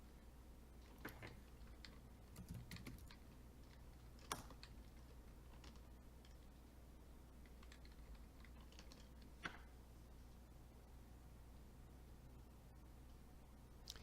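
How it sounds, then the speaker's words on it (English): Soft computer keyboard typing in the background of an online fantasy basketball draft call, scattered faint clicks and a few sharper keystrokes spread over a steady low hum, no voices. "I just have to keep my fat fingers from typing."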